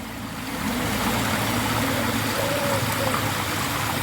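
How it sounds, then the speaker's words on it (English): A waterfall in a park rushes steadily with broadband water noise, a continuous close roar that swells slightly after the first half second and holds level, with no talking. "And the second of the waterfalls."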